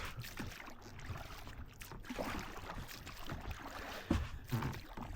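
Oars working a small dinghy back out from the shore in Scottish sailing waters, faint splashes and knocks with a soft wind rumble, low and distant throughout.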